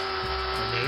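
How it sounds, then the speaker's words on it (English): A rotary tool polishes the grille of a Corgi diecast Green Hornet Black Beauty model car, a close, loud high-pitched buzzing whine that shifts slightly in pitch over a brief moment. "here I'm polishing up the grille"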